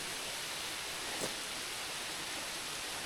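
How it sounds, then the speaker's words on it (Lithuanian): A small waterfall on a levada in Madeira, a steady dense rush of falling water with no distinct events, heard up close and alone. "Gražus kriokliukas."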